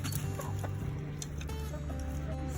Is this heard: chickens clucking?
yes